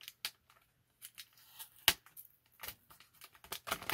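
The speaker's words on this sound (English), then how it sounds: "Now cut the bubble out at some other point." A blister bubble on a Star Wars Legacy Collection figure's packaging is cut open with scissors, giving faint, close, irregular plastic snips and crinkles with a few sharper clicks and no talk.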